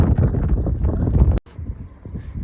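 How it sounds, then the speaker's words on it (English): Strong wind gusts buffet the microphone beside railroad tracks, a rough low rumbling roar that cuts out abruptly for a moment and then returns weaker. "Man, it is really windy."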